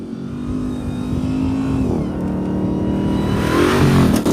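A 777-hp Ram TRX SRT pickup truck accelerating hard off-road, its engine droning and rising in pitch through the gears, loud and close-up with rumbling road noise, no talking.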